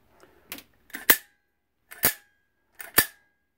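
An airsoft M4 with a freshly lubricated spring fires five sharp, snappy shots at uneven intervals, each with a short metallic spring twang ringing after it, close and clear with no talking.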